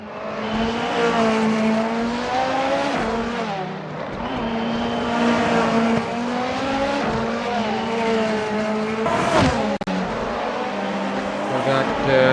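Race cars in a racing video game lap a track during qualifying at SUGO, engines whining through rising and falling gear sweeps, with a loud pass and brief squeal near the end; a commentator talks over much of it.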